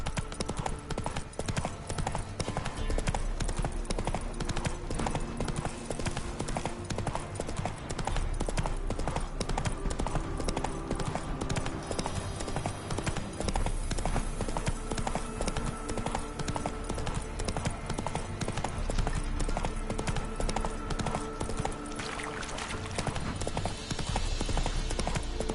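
Horse galloping in The Witcher 3: Wild Hunt, a continuous rapid clip-clop of hooves at close range with occasional snorts, sustained loud throughout.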